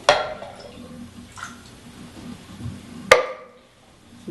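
Water rinsing through a pot while marinara sauce is made, with a splashy burst at the start, softer trickling and sloshing in the middle, and a sharp clatter and splash near the end.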